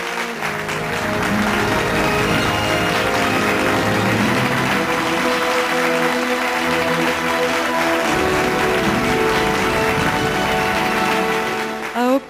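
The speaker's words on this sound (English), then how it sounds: "Let us give a thunderous round of applause." Sustained applause from an awards ceremony audience at a commercial vehicle awards event, a steady loud wash of clapping lasting about twelve seconds with music or tonal sound layered underneath, ending abruptly.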